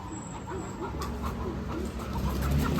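Kadaknath chickens clucking and squawking in short repeated bursts while being loaded into a rickshaw, fairly close over steady low background noise.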